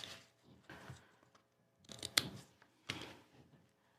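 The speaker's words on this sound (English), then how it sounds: "I'm going to trim using some non-stick scissors because there is tape hanging over the edge" Non-stick scissors trim overhanging tape at the edge of a card panel, making a few quiet, sharp snips spaced out near the microphone, with no one speaking.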